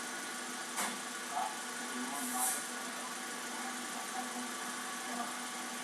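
A car engine idling steadily during a coolant combustion-gas test, a low, even hum with faint ticks and small bumps, close by and alone.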